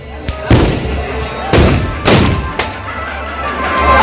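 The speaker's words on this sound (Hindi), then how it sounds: "सभी ग्रामवासी पूरी रात बंदूकों से फायर और आग उगलती आतिशबाजी कर जश्न मनाते हैं।" Guns are fired and fireworks burst during a night-long village festival held the day after Holi. Four loud, sharp bangs ring out at uneven intervals, each trailing off into a rumbling echo.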